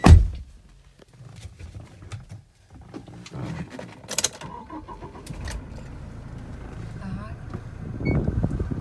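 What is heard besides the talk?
diesel SUV engine starting and idling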